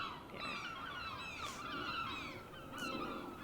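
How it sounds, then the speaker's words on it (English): Faint, distant seagull calls, a few harsh squawking cries over a quiet outdoor background. "there goes a seagull right now"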